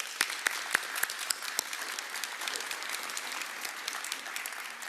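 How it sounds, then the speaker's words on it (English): An audience claps for the Finance Minister at a union hall event, a sustained round of applause with sharp individual claps standing out over a dense patter, moderately distant and fairly quiet. "Let's give her another round of applause."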